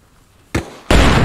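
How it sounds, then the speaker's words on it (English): In ARMA Reforger, a ZSU anti-aircraft vehicle blows up nearby, with a sharp blast followed by a second, louder burst that roars on loudly. "They're about to blow up the ZSU right next to us."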